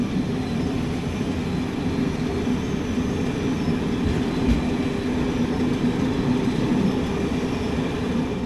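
A Moroccan Al Atlas passenger train rumbles steadily along the tracks toward Rabat, a continuous low roar with faint rattling, no voices.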